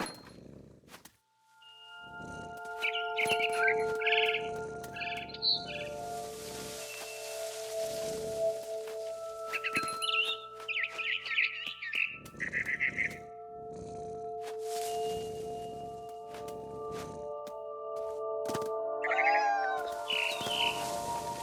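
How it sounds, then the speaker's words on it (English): Scattered barn swallow chirps and tweets over a soft patter of rain and other light background sounds, the chirps coming in short bursts throughout, from the video game What Remains of Edith Finch. "Then I heard chirping outside my window. It was a barn swallow going back to her nest."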